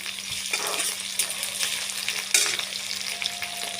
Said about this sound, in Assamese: মই এতিয়া আদা নহৰুৰ পেষ্টটো দি দিম। অলপ লৰাই থাকিম।